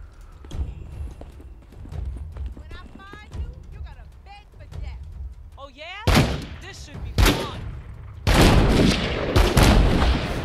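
Shotgun blasts in The Walking Dead: Saints & Sinners, a VR zombie game, three loud sharp booms spaced a second or two apart, the last followed by sustained rumbling noise, after a stretch of clattering game sounds and faint voices.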